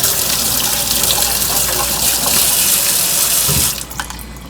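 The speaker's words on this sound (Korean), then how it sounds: "제가 충분히 물에다 흐른 물에다 씻어 볼게요" Tap water running steadily over pufferfish roe in a sink as it is rinsed: a loud, continuous gushing hiss that cuts off abruptly near the end, followed by a few faint drips and clinks.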